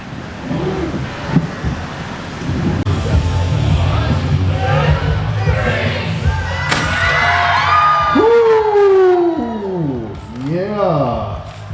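A crowd at Carolina Fear Fest 2023 screams together on cue after a counted three, a loud, sustained burst of many voices with shrieks and whoops that rise and fall over several seconds.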